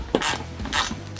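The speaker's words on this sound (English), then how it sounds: "just screw it in with your fingers until it gets tight, and then we'll go ahead and really ratchet it down" A ratchet wrench tightens a bolt while installing a light bar grille on a 4th gen Toyota Tacoma, heard as two short close bursts of rapid clicking.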